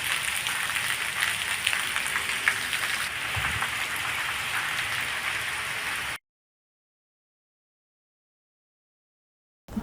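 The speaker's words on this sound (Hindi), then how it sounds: "सोयाबीन की फसल कट कर पड़ी थी और अचानक बारिश हो गई" Rain pours over farm fields where a harvested soybean crop lies cut on the ground, a dense steady hiss that runs for about six seconds and then stops abruptly into silence.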